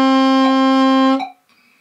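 Saxophone playing two tongued half notes, G then A, each a steady, clear, close tone with a brief articulated break between them, the second note cut short.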